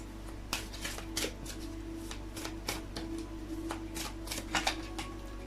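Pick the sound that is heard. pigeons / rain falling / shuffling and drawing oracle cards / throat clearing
shuffling and drawing oracle cards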